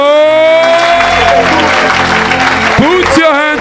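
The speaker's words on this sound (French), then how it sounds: "Put your hand together for the Lord." A church congregation claps together while worship music keeps playing, a strong sustained wave of applause mixed with a sung voice and instruments, near and loud.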